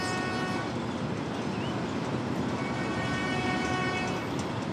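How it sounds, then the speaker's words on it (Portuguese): Light rail tram passing along a former freight rail line, a loud continuous rumbling roar with a steady tonal hum throughout, close by and without speech. "esse VLT está passando em cima de uma antiga linha de trem de carga"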